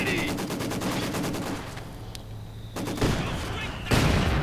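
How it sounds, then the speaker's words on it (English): Mortar and Maxim machine gun fire in a WWI strategy battle game, a dense, continuous crackle of gunfire with heavier thumps and bursts swelling near the end. "Mortar joining in the fun as well."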